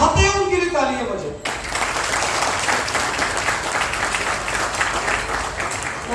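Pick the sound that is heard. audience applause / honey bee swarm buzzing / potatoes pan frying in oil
audience applause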